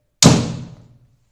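A homemade coilgun discharges its capacitor bank in one sharp, loud thump that starts abruptly and rings out briefly over about half a second, with no talk.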